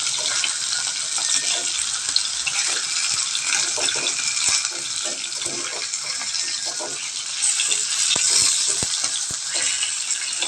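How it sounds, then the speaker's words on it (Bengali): Katla fish pieces frying in a pan for a home-cooked breakfast, a steady hiss of oil with scattered crackles and spatters running throughout, close and fairly loud. "দেখো আমার মাছগুলো সব ভাজা প্রায় রেডি হয়ে গেছে"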